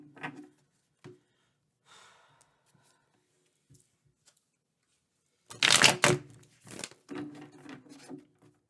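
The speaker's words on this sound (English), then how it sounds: "I don't know why I'm shuffling, but this is not the deck." Tarot card deck being shuffled, quiet scattered taps and rustles at first, then a dense burst of riffling card flutter and a few softer follow-up shuffles, with faint breathing sounds and no speech.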